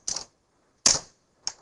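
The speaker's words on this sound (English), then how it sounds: "You hear that? That's a lot of Bellagio chip." Bellagio casino chips clack together in three short crisp bursts separated by brief silences, close and fairly loud with no voices.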